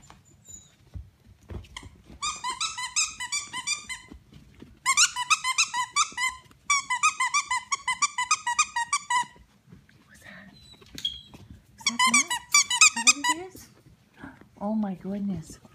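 Seven-week-old puppies play and tussle, giving bursts of shrill, repeated squeaks and yelps in clusters, fairly close, with quieter gaps and a low voice speaking between them.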